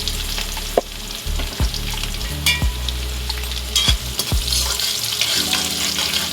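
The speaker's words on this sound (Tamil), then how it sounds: "பூண்டு நல்லா வதங்கட்டும்." Chopped garlic sizzles in a pan with a bright, constant frying crackle, punctuated by several clanks and scrapes of a spoon stirring it.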